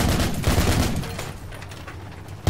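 Rifle fire in Project Reality: a burst of close, loud rapid shots at the start, fading into a rumbling tail, and a final sharp crack at the end, with no talk.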